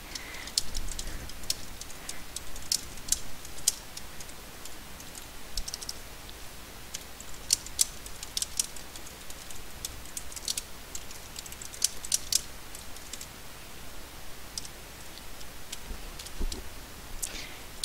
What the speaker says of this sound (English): then I'm going to type in my quote